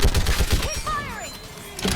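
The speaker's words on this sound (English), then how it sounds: "Keep firing!" Bursts of gunfire in a Mass Effect 3 battle, loud repeated shots in the first second and again at the end, with a voice shouting orders in the middle.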